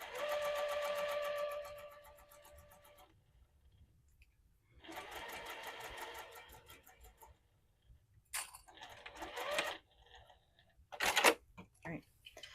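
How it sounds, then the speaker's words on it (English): A sewing machine stitches fabric pieces placed right sides together along a 1/4 inch seam for a wallet, running in several short bursts of rapid mechanical whirring with pauses, close and fairly quiet. "And then we're going to sew with our 1/4 inch seam allowance."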